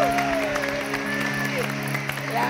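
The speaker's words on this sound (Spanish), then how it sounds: "Vamos a recibir con un fuerte aplauso caluroso" Studio audience applause greets a guest on a television show, steady clapping filling the whole moment with a host's voice and music-like tones running underneath.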